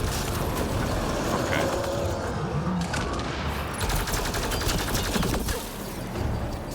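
A robot enemy in Mass Effect Andromeda fires continuous rapid gunfire, a dense steady rattle filling the whole stretch at moderate loudness with faint talk beneath.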